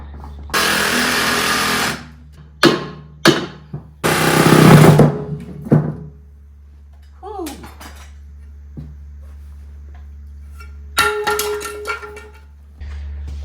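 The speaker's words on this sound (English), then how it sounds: "nothing a carbide blade won't handle on the Sawzall" A Sawzall fitted with a carbide blade cuts a seized bolt during a solid axle swap on a Tahoe, in several loud, harsh bursts of rasping, separated by pauses and clanks.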